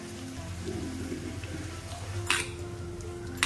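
Gram flour batter seasoned with chili powder and half a spoon of salt is mixed in a bowl for banana-flower chops. Two sharp, faint clinks of a utensil against the bowl sound over a low, quiet background hum.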